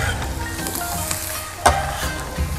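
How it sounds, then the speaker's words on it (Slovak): Carrots, celery, peas and shallots hit hot oil for nasi goreng fried rice, a steady close sizzle with occasional stirring clinks and a sharp spatter, no speech. "olej musíme rozpáliť a na ňom si vlastne orestujeme prvé mrkvu, stopkový zeler, hrášok a šalotku"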